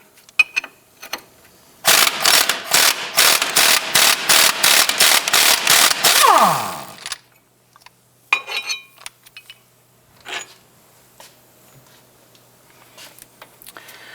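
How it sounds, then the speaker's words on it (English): A 21mm socket and ratchet wrench work the front strut bolts on a 2008-2013 Nissan Rogue. A loud run of about a dozen evenly spaced ratchet clicks is followed by a few scattered metallic clanks and taps. "Using a 21mm socket and wrench, let's go ahead, loosen and remove the two strut bolts here and here."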